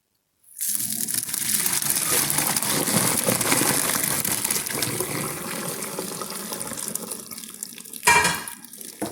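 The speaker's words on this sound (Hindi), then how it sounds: "ठंडा पानी ऐड करूंगी ताकि इसमें जो खटास थी सिरके की वो निकल जाए।" Cold tap water poured steadily over freshly strained paneer curds in a muslin-lined strainer while making kalakand, a continuous close splashing rush that starts abruptly and keeps going, with a brief louder gush near the end.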